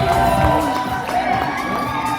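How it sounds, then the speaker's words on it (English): Crowd cheering and shouting at a New England fitness competition as an open-division contestant is introduced, with high whoops and yelling over a loud sustained din. "Give a round of applause, everyone."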